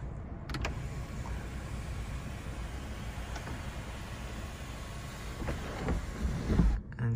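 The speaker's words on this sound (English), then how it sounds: "And just like that, your sunroof is closed." The electric sunroof on a 2018 Audi A5 closing inside the car, a faint steady motor whir lasting several seconds, with soft clicks near the start and a firmer thump as it seals near the end.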